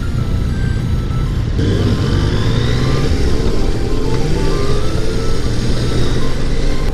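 A Yamaha Tracer 900 GT, a 2020 three-cylinder inline motorcycle, riding along on the road, with a loud, steady engine drone and wind rush that holds continuously throughout, no talking.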